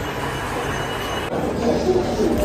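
A train at a railway station, heard as a steady broad rumble with a slight shift partway through, swelling a little louder and rougher toward the end, with no talking.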